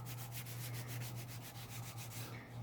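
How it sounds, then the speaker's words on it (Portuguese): A nail file sanding dried glue off a small handmade art journal, making a steady, quiet scratchy rubbing with quick back-and-forth strokes, close up and continuous. "A gente vai lixar pra tirar um pouquinho dessa cola"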